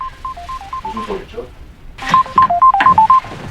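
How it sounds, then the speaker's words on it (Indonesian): A mobile phone's electronic ringtone plays a repeating beeping tune, loud and close, while people talk over it. "terdengar ponsel berdering"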